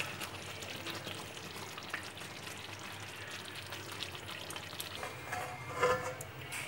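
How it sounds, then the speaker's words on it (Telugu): Stuffed eggplant curry (gutti vankaya) cooks in oil in a pan, a faint steady crackle and sizzle with soft bubbling pops and a brief louder stir near the end, no voices. "ఇలా తిప్పుకుంటూ అన్ని వైపులా బాగా ఉడికించుకోవాలి."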